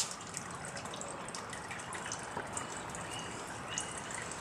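Engine oil drains from a 1987 Porsche 911 into a catch pan, a steady close trickle and splatter of liquid with faint drips running throughout.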